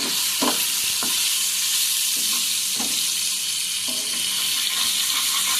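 Matar paneer masala frying and being stirred in a pan, a steady sizzle throughout with several soft scraping stirs at intervals.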